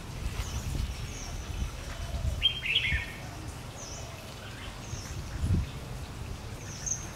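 Red-whiskered bulbuls give a few brief, high chirps and calls outdoors in Vietnam, fairly faint against low rustling and background noise, with occasional soft thumps.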